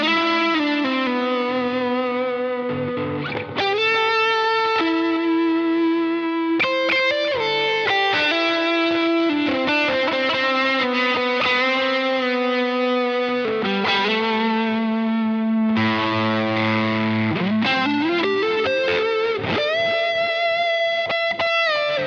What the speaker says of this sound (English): We'll bring in some delay and some extra overdrive to give you a kind of lead sound.